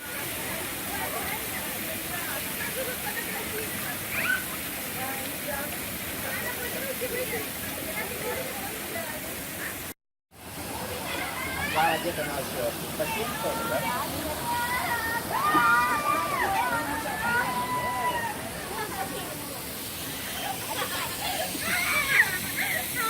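Spa hydrotherapy jets spray water with a continuous hissing, splashing rush that stays steady throughout, while a person talks over it.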